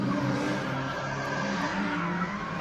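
Drift cars, a Fearful Joy K70 chased closely by another K70, roar past at a drift event with a steady, loud engine drone and tyre noise, no voices.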